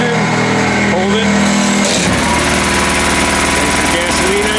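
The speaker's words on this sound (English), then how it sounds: "There's the gasoline engine running." The gasoline engine of a 1959 LaDawri Conquest experimental electric car starts up and runs, a loud steady mechanical drone with whining tones, while a person talks over it.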